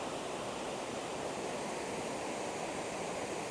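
Water pours down steadily from above, a continuous close rushing hiss like a small waterfall that stays even throughout, with no talk.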